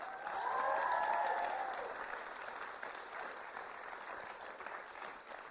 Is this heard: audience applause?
yes